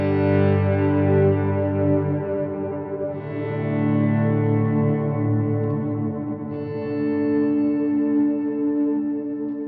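Electric guitar volume swells through a 1967 Vibrolux amp patch on a Line 6 Helix, sustained chords fading in softly and blooming with reverb and echo, three overlapping swells played alone.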